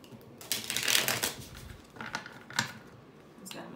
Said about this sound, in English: I'm going to go ahead and shuffle these so we can get more cards